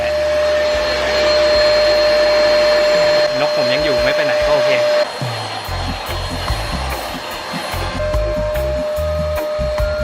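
An Alectric vacuum cleaner with a 1.8-litre dust bin runs continuously with a steady high whine, its pitch shifting as the nozzle moves along door crevices; no talking.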